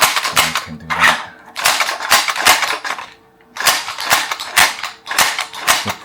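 Prototype 3D-printed toy bolt-action blaster handled up close, its magazine pulled out amid bursts of sharp plastic clicks, rattles and scraping in clustered groups, with brief pauses between them.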